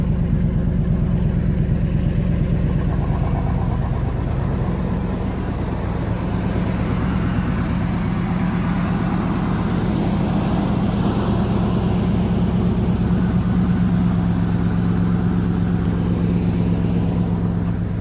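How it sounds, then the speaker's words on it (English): An old pickup truck idles steadily with a rusted-out exhaust, a loud, continuous low rumble with a rough, leaky texture that holds evenly throughout without any talking. "the exhaust is rusted out right there. That's why you can hear. Well, I can hear the exhaust coming out from here."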